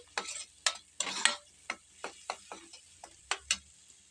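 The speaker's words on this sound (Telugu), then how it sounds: "జీలకర్ర వేడెక్కినాక మనం ముందుగా మిక్సీ పట్టుకున్న ఆనియన్ పేస్ట్ యాడ్ చేద్దామండి ఇది అంతా మంచిగా కలపెట్టుకోవాలి" A spoon scrapes through onion paste and cumin frying in a pan, giving a series of short, close scraping strokes at an irregular rhythm over a faint sizzle.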